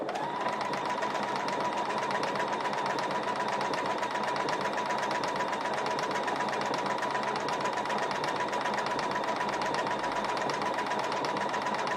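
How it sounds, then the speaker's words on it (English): Electric sewing machine running steadily, stitching a straight quilting line with a fast, even mechanical whir and rapid needle ticking, close and continuous with no talk. "I don't even have to hold it, and it's going to sew a straight line."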